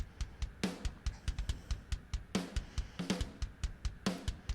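A pop punk drum loop from a sample pack repeats its steady groove: a punchy kick and snare backbeat under busy cymbal and hi-hat hits, fairly quiet and with no voices.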